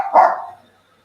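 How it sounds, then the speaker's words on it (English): A dog gives a single short, sharp bark close by, which quickly fades into silence. "It sounds like the dog has an opinion about that."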